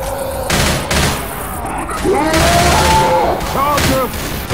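Gunfire at the Tank in Left 4 Dead 2, a zombie shooter, crackles in continuous close bursts while voices shout over it.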